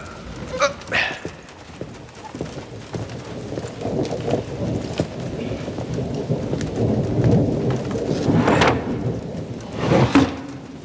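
Heavy rain pours steadily in a Scottish storm scene, a dense hiss building louder across the stretch, with low rolls of thunder and occasional sharp cracks rising above it.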